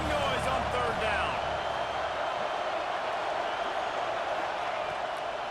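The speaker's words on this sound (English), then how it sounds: "This dog crowd is off the leash, and they are coming after them, bringing noise on 3rd down." Loud, steady stadium crowd roar in the College Football 26 video game as fans bring noise on third down, a dense continuous wash of cheering under a commentator's voice.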